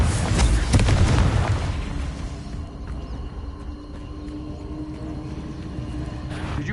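A Confringo spell in Hogwarts Legacy bursts with a loud, deep boom at the start, then rumbles and fades into a low ambient tail.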